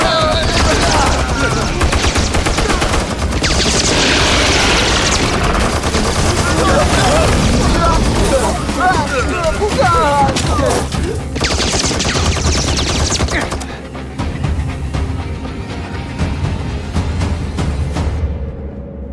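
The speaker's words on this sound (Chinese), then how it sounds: "全体集中火力射击！" A massed volley of gunfire from many weapons pours out in a dense, continuous roar of overlapping shots and booms, loud and close, fading to a lighter crackle near the end.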